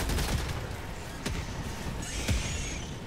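Gunfire crackles during a video game battle in which an enemy brings a mortar. Sharp shots come in scattered bursts of varying loudness over a steady noisy background, with no talking.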